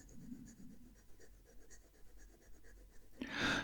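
A fountain pen's fine nib ruling grid lines on paper, making a faint, close scratchy scraping in short strokes, quiet throughout, ending in a louder brush of movement.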